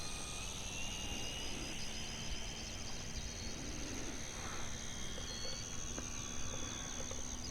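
A Flightline F4U-1D Corsair RC model airplane with a 1600 mm wingspan flies at a distance as a faint, continuous high electric whine over steady outdoor background noise, with no talk.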